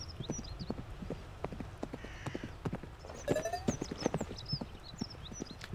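A horse named Alpha clip-clops along at a steady riding pace in the video game The Legacy of Rosemond Hill, its hoofbeats close and rhythmic, with chirping birds in the background.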